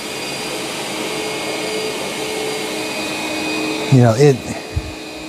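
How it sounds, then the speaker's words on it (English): A Eufy X8 Pro robot vacuum runs on turbo maximum suction, a steady loud whirring hum throughout, with a brief burst of other sound rising over it near the end. "I got the Eufy, it's on turbo. Maximum suction, yeah."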